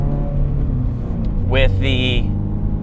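A Toyota GR86 with a catback exhaust, a tune and the stock header rumbles steadily at idle, then blips briefly with a rising rasp, under someone talking close by.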